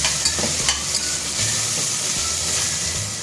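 Onions sautéing slowly in a pan for prawn biryani, a constant sizzle with occasional stirring scrapes near the start, steady and close, without any voices.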